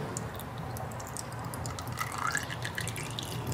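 Oil drips from a motocross bike after hard riding, a faint, close patter of small liquid drops in a quiet space, with no talking.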